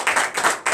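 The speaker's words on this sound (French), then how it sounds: "Donnez l'acclamation à Jésus." A church congregation at a morning prayer service clapping in acclamation to Jesus, a short burst of rhythmic, close hand claps in quick succession.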